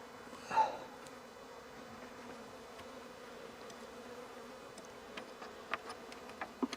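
Bees hum faintly and steadily around an open beehive during frame work on brood, with a low drone throughout and a few soft knocks and ticks from handling near the end.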